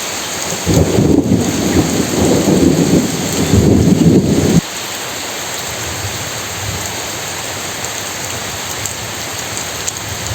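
Heavy rain pours over a village with thunder, a loud dense roar for about four seconds that abruptly drops to a softer, steady patter.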